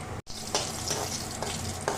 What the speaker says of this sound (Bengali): তেলটাও বেশ গরম হয়ে গেছে এবার আমি এর মধ্যে দিয়ে দিচ্ছি কালো জিরা ফোড়নে